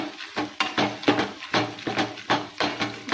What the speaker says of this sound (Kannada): ಸಣ್ಣ ಈ ಥರ ದಪ್ಪ ದಪ್ಪೆ ಜಜ್ಕೋಬೇಕು